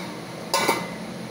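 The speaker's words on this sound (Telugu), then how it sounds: "దీన్ని జస్ట్ మూత పెట్టి కొంచెం సేపు అలా ఉడికిద్దాం" A lid is set onto a pot of Godavari berried crab curry, a single quick metallic clink with a faint rattle, close but soft against a quiet kitchen.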